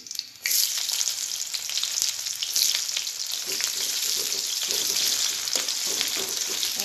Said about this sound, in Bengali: পেঁয়াজটা লাল লাল করে ভেজে